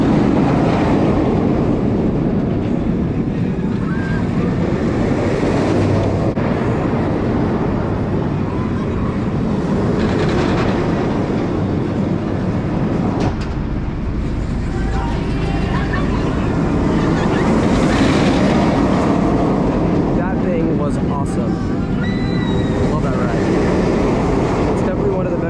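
Riding the Dominator roller coaster at Kings Dominion in Doswell, Virginia gives a loud sustained roar of wind and rumbling track that fills the whole stretch, with no clear talking.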